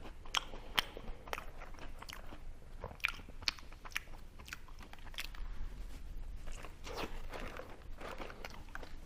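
Close, crunchy bites and wet chewing while eating hamburgers, repeated in an irregular rhythm throughout, with no talking.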